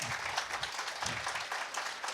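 Audience applause after a conference talk on HTTP/3, a dense, lively wash of many hands clapping at close range that carries steadily from start to finish.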